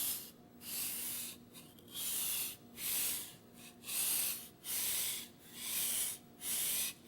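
A chef's knife sharpened on a whetstone with the blade held too flat, giving rhythmic rubbing strokes, about eight steady back-and-forth passes at close range with brief pauses between.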